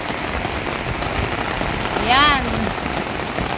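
Heavy rain drums on a rooftop in a steady, dense wash of noise that is loud and close. A short spoken word and a brief rising whistle-like tone cut through halfway.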